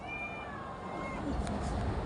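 A pet cat left outside meows softly against steady low background noise, its thin, wavering calls most noticeable early on and fairly faint.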